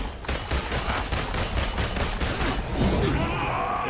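Rapid gunfire from Marvel's Avengers beta gameplay rattles in a dense, continuous burst of shots for several seconds, then thins into fainter game effects toward the end.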